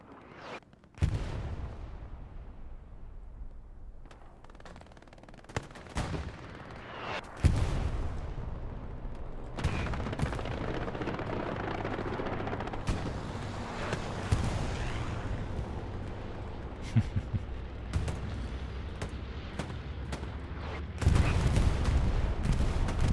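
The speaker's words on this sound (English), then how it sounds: "Bombing run comes in, flattens the front line one last time." A bombing run pounds the front line on Omaha Beach in Hell Let Loose, with dense, rumbling blasts and crackling gunfire rolling on continuously and loud, swelling into a heavier barrage near the end.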